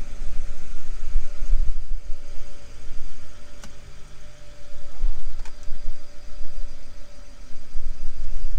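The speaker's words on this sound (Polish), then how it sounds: "silnik po uruchomieniu pracuje bardzo ładnie" A BMW car engine idles smoothly and steadily just after starting, a loud, close, even rumble with a faint whine and a couple of brief clicks and no talk.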